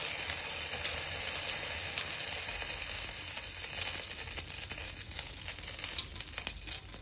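Steady, dense sizzling and crackling of hot coconut oil in a pan, loud and close, continuing without pause throughout.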